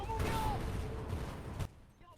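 Gunfire in Titanfall 2 during a speedrun, a dense burst of shots and explosions lasting about a second and a half before cutting off abruptly, mixed with game sound and voice.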